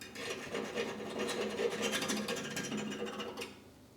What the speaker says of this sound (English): They asked me to scratch it with a fork.